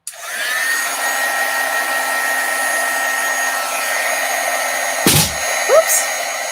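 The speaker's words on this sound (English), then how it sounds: "I am going to very carefully heat this up" Heat tool blowing hot air during a stamping craft project, a continuous close whooshing whir with a few faint clatters near the end.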